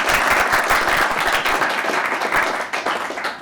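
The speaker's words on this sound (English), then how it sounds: "A round of applause for Morris Kachaga." Brisk applause from attendees at the FNB Cape Town 12 ONERUN elite athlete press conference for a runner, close and lively, then easing off over a few seconds.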